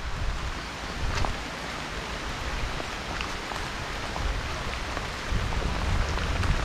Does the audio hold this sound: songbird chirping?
no